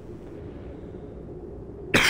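A single sharp cough from a person comes right at the end, close and loud, after quiet room tone.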